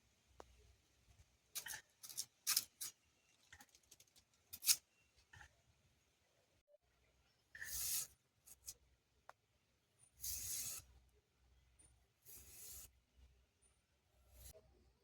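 A knife slices banana stem and potato in a Bengali village kitchen: close, crisp cutting strokes come in short bursts and clusters, separated by near-silent pauses.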